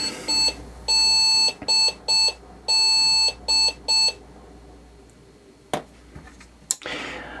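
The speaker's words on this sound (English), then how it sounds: "Processor is cold and it's beeping as memory is absent." An Asus Z170-P motherboard with no memory installed sounds its beep code: a series of loud, high, steady electronic beeps in short groups, followed by quiet room noise and a couple of clicks.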